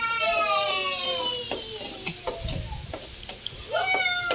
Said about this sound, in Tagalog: dyan tayo gisa ng ating bawang